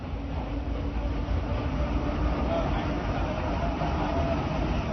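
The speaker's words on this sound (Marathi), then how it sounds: "या टॉय ट्रेनची चाचणी सुरू आहे" Steady rumble of the Van Rani toy train at Sanjay Gandhi National Park, Mumbai, rolling along on a test run, with a continuous mechanical drone and people talking underneath.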